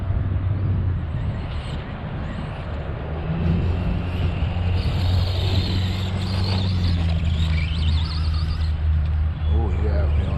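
Two 2S RC cars, an Arrma Granite and a Traxxas Stampede, racing: a steady, loud whining electric motor drone with rising and falling pitch as they accelerate, under wind noise and occasional voices.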